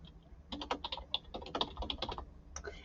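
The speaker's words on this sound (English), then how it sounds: "And I'm just typing it," Keys tapped on a computer keyboard while a library database search is entered, a quick irregular run of close, crisp clicks with a brief pause before a final burst, no voices.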